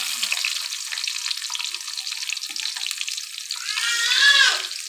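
Chopped garlic sizzles in hot oil with a whole clove and peppercorns for a Bengali beef and potato dish, a steady soft crackle that swells louder near the end as it is stirred.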